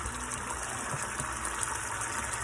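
Water gushes steadily into a cooking pot of frying fish seasoned with fresh thyme and hot pepper, a continuous close pour with no pauses.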